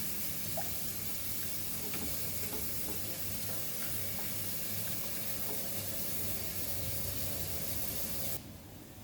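Goan mutton cafreal fries in a pan with a steady, dense sizzle that holds evenly for about eight seconds, then drops away abruptly near the end.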